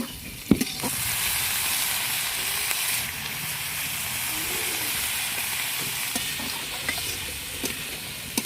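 Chopped cabbage hitting spiced oil in a pan for moong dal khichdi, a loud continuous sizzle and hiss with occasional clanks of stirring.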